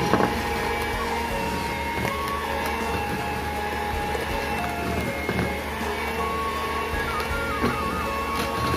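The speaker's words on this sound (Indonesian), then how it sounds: "kita hanya memixer biar tercampur aja dengan rata" An electric hand mixer whirs steadily as it blends butter, sugar and egg pudding for nastar cookie dough, a constant, close mechanical drone with faint clinks of the beaters against the bowl.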